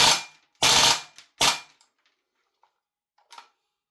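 VFC AKS74U gas blowback airsoft rifle fired on full auto: two short, loud bursts of rapid cracking shots, then faint mechanical clicks and a final small pop as the magazine runs empty.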